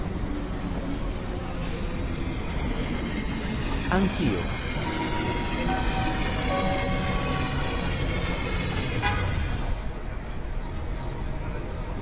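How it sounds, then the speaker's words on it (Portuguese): A suburban train on the Cascais line into Lisbon's Cais do Sodré rolls into a station platform, a steady rumble with squealing wheels and brake tones over about twelve seconds, with a brief spoken word and faint station noise. "vai dar entrada na linha número 2 e efetua paragem a todas as estações e apeadeiros"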